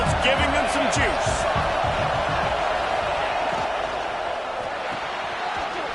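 A packed Texas A&M college football stadium crowd roars steadily during a goal-line defensive stand, a dense wall of noise beneath a play-by-play announcer talking.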